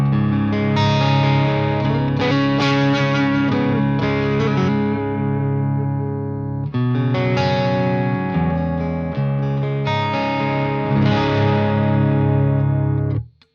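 Fender Ultra II Telecaster electric guitar on the neck pickup, run through effects with chorus and distortion: a loud, continuous strummed chord progression with sustained, shimmering tones and a short break midway, ending abruptly.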